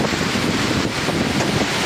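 Strong wind and rain from a tropical storm on Boracay island pour down in a constant loud roar. The wind thumps against the microphone in gusts throughout, and nobody speaks.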